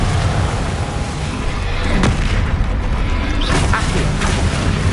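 A loud, dense blast from the Confringo fire spell in the Hogwarts Legacy game, with a continuous booming roar, a crack near the middle and rumbling debris following.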